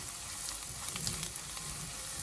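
Onions and turmeric sizzle in a clay pan for fish molee, a continuous close frying hiss with light stirring scrapes clustering toward the middle.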